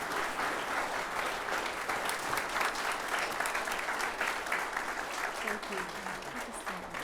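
An audience applauding steadily, a dense wash of clapping hands that fades slightly toward the end, with a faint voice underneath near the close.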